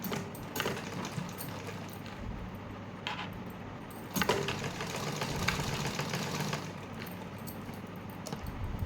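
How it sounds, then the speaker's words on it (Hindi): A sewing machine stitches a lined blouse, giving a low continuous mechanical hum with faint rattling and a couple of brief clicks, fairly quiet and steady with no talking. "यहाँ पे मैं 2 बार मशीन चला रही हूँ।"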